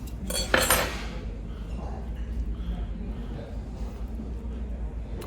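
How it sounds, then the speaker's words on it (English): Cutlery rattles and clinks inside a small bag at a Cracker Barrel restaurant, a loud metallic jangle in the first second, then quieter handling sounds under talk. "They put their silverware in this little bag here."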